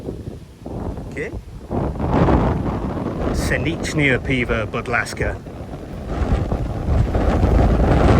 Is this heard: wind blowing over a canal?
yes